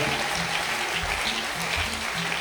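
A church congregation applauds during a French-language worship service, a steady wash of many hands clapping together at moderate volume with no clear pauses.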